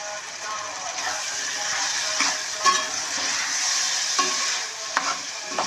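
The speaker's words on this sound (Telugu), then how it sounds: "ఇప్పుడు కట్ చేసి కాకరకాయ ముక్కలు వేద్దాం." Bitter gourd pieces frying in a pan of mutton curry, a loud steady sizzle with a spoon scraping and stirring in occasional knocks, no talking.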